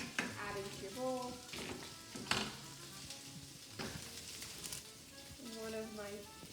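Tofu sizzles and crackles while frying in a pan for a spicy tofu bowl, a steady close hiss with stirring scrapes, and voices and other sounds come and go over it.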